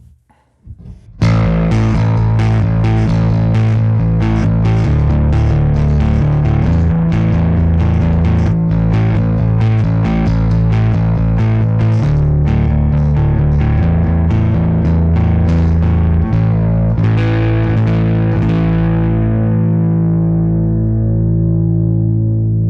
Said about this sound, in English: Lots and lots of aggressive distortion and volume coming